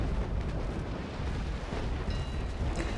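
Cannon broadside from sailing warships in the naval combat game Naval Action, a dense, loud rolling roar of overlapping blasts filling the whole stretch with little pause, heavy low rumble throughout.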